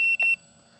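An FMS Ranger V2 1220mm ready-to-fly RC plane on its maiden flight in stabilized mode gives two loud, close electronic beeps in quick succession, then only a faint steady hum remains.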